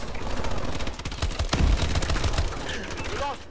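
Remote turret gunfire in Call of Duty: Advanced Warfare, rapid automatic bursts rattling loudly and continuously for several seconds, with brief speech mixed beneath the shooting.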